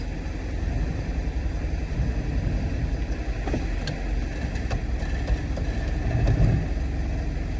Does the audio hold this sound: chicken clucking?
no